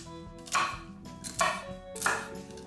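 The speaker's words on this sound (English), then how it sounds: "Trim off the ends of the celery and cut into 4 or 5 pieces" A knife cuts celery into four or five pieces on a board while making sausage and shrimp jambalaya: three crisp chops spaced about a second apart, over soft background music.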